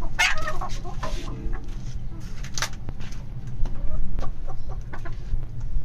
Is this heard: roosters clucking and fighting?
yes